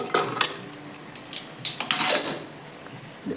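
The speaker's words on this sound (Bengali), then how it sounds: "ডালটাকে ভালো করে নেড়ে চেড়ে নিচ্ছি" A spoon stirs boiled dal in a metal pot for haleem, giving intermittent clanks and scraping knocks against the pot over a soft background hum.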